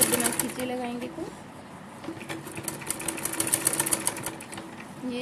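A sewing machine stitches palazzo trouser fabric in steady bursts of mechanical whirring, with someone talking over much of the stitching nearby.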